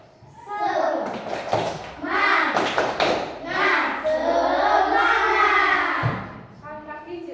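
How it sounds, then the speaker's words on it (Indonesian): A group of children does the rhythmic 'tepuk semangat' spirit clap in a classroom lesson, with bursts of sharp, close hand claps in a patterned beat mixed with young voices chanting and talking throughout. "Ya, tepuk semangat."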